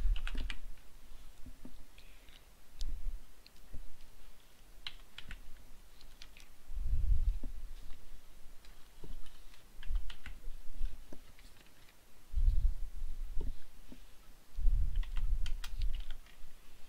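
Keys tapped on a computer keyboard while a paysafecard PIN is entered, irregular bursts of soft clicks with short pauses, close and fairly quiet, with no talking.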